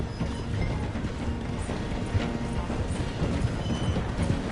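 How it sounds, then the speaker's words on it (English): A train in the video game Red Dead Redemption 2 slows down to pass through a station, giving a steady, loud rumble of rolling wheels and rattling cars with faint clacking. "The train is slowing down to go through the station."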